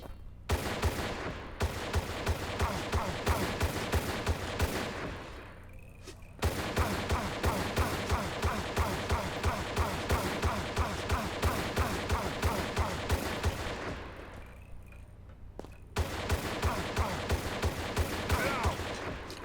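Gunfire from shooting an enemy in a Tomb Raider level, with long bursts of rapid, evenly spaced shots broken by two short pauses, loud and close throughout.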